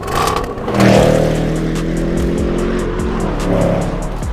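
A 2021 Range Rover Sport SVR engine roars and revs loudly up close, the pitch climbing and dropping through gear changes with a deep, throaty rumble.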